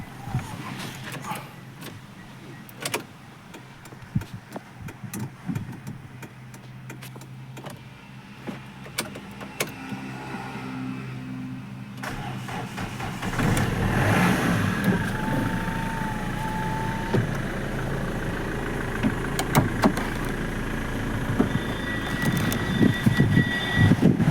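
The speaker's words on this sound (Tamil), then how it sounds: "வண்டியை ஸ்டார்ட் பண்ணி காட்டுறேன் பாருங்கள்" A 2007 Hyundai Verna sedan is cranked after some clicks and cabin sounds, its engine catching about halfway through and then settling into a steady, fairly close idle that runs to the end.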